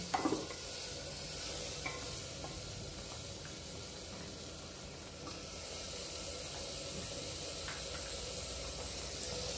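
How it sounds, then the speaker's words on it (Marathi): Tomatoes sauté in fried masala for a drumstick and potato curry, a steady close sizzle and hiss with faint scrapes of stirring running throughout, no voices. "टोमॅटो पण परतून घेऊ आपण, थोडं गाळ होईपर्यंत टोमॅटो"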